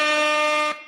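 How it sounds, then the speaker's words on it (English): A loud, blaring air horn sound effect played on a sports fan livestream, a single sustained harmonic blast under a second long that cuts off abruptly. "Ziggy, can we get the This Shit More Than the Game air horns for Dennis Allen?"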